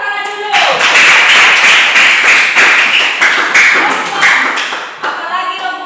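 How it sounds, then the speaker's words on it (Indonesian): A primary-school class claps together in a loud, dense burst of rhythmic hand claps that runs for several seconds, then tapers off and briefly resumes. "Tepuk tangan dulu"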